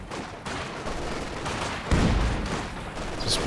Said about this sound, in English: Maxim popping the sustained fire here